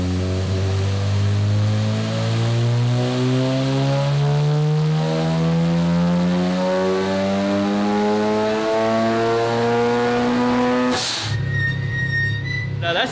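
A turbocharged rotary engine car on a dyno at about 7 PSI boost revs loudly and steadily climbs in pitch under load, a buzzing, rising wail that cuts off sharply near the end, then idles roughly.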